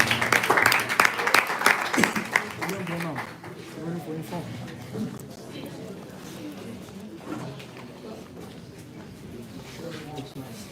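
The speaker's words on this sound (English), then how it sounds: "Can you clap for William, please" A graduation ceremony audience claps loudly for the first few seconds, then the applause fades into a quieter room where a voice speaks.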